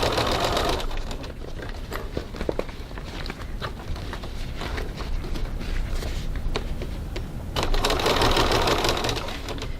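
A sewing machine stitches through cork fabric in steady whirring bursts, pausing briefly in the middle and speeding up again near the end, close and fairly loud with no talking.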